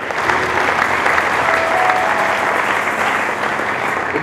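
Church congregation applauding together, a dense, steady burst of clapping filling the room for a few seconds, with faint voices mixed in.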